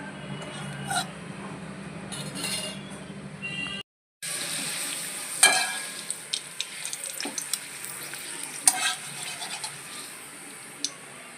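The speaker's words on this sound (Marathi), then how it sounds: "आपलं तेल झालं आहे हॉट. चला याच्यात पापड तळूया." Homemade moong papad fries in hot oil, a moderate hissing sizzle broken by a brief gap, then sharp crackles and pops as it puffs.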